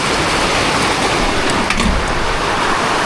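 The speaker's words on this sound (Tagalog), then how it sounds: "Grabe ulan, oy." Heavy rain pours down during flooding as a loud, unbroken roaring hiss that fills the whole stretch without any talking.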